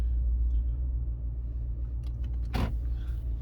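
A car creeps very slowly down a driveway, its engine a steady low rumble throughout, with a brief rustling scrape just past the midpoint and no talking.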